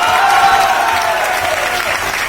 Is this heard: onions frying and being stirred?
no